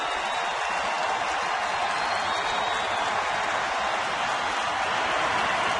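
A large baseball crowd at a Dodgers versus Reds game applauds and roars continuously, a dense, steady wash of clapping and cheering in a packed stadium during a bases-loaded ninth inning.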